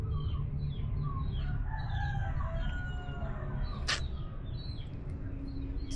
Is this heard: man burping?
no